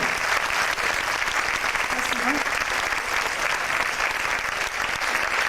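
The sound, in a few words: audience applause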